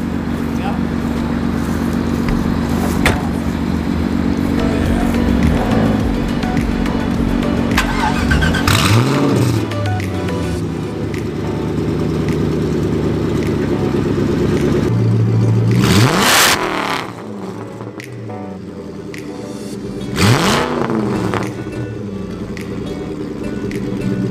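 A McLaren 720S sports car with a heavy body kit fires up and revs repeatedly, loud and close, with sharp throttle blips rising and falling over a rumbling idle; people talk at times.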